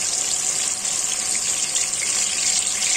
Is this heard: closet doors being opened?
no